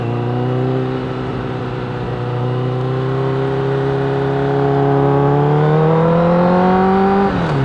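A Honda CRF motorcycle engine accelerates while riding in Japan, a steady buzzing drone that climbs in pitch toward the end, close and loud with no talk.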